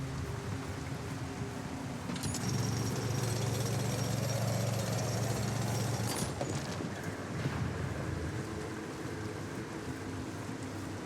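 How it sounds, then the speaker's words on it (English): A jackhammer in the video game The Alters, used to extract metals: steady dense rattling hammering with a grinding roar, continuous through the clip with a brief stronger burst in the middle, no talk. "Buddy just gets after it with an invisible jackhammer."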